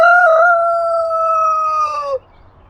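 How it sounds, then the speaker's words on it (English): A rooster crows once, loud and close, in a long sustained call that holds steady for about two seconds before cutting off abruptly to quiet background. "This is my rooster, and he's my favorite chicken."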